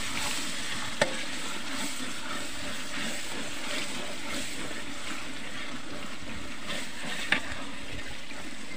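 Chicken mixed with curd for biryani is stirred in a pan, giving a continuous wet sizzling, scraping hiss throughout, with two brief sharp clinks of the utensil, close by and with no talk.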